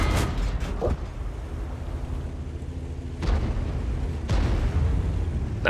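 A Caernarvon tank gun in the video game World of Tanks fires in sharp, loud booms: a burst at the start, then two heavy shots about a second apart near the end, with a low rumble between them.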